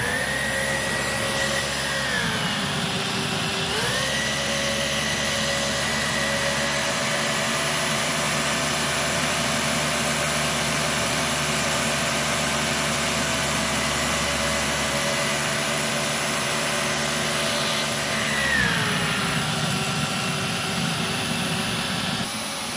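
A Dyson DC26 vacuum cleaner running during an airflow test, a loud continuous whine with a steady hum beneath it, its pitch dipping and recovering twice as the airflow shifts.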